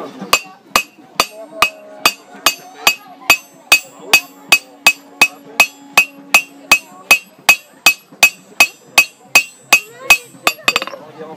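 Hot metal struck by a hammer while forging an arrowhead, a steady run of about thirty loud ringing blows at an even, brisk tempo, each a bright metallic clang, with a short quicker flurry at the end.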